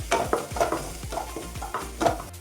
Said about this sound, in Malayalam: ഇതിൻ്റെ ആ ഒരു പച്ചപ്പ് മാറുന്ന വരെ നമുക്ക് നന്നായിട്ട് വഴറ്റി കൊടുക്കാം